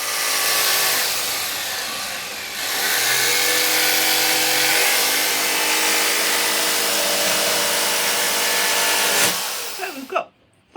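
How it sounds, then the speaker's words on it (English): A power saw rips through plywood pieces being cut to size, a loud continuous whining cut of about nine seconds that shifts pitch midway, then winds down and stops with a few small knocks. "And Paul's cutting those two pieces of plywood to size."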